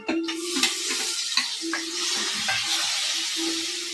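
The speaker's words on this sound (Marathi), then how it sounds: "टमाटर चांगलं हलवून घ्यायचं।" Tomatoes being stirred in a pan with turmeric and salt for tomato chutney, a steady sizzle broken by repeated scraping strokes of a spoon against the pan, close and fairly loud with no talking.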